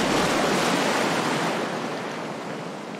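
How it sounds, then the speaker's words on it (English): Ocean waves roll and wash in a continuous loud surf roar that slowly eases, with no voices. "Wow, look at the blue ocean."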